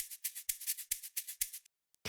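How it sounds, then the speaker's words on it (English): A hand shaker, a container filled with grain or sand, shaken in a steady, even rhythm of crisp, close swishes, about ten strokes before stopping. "So we have a shaker."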